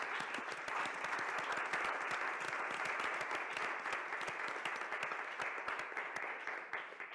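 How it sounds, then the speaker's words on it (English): An audience at a plenary meeting of a participatory group in Buenos Aires claps steadily for several seconds. The dense, even applause is fairly faint and sounds distant, then thins slightly at the end. "Big round of applause."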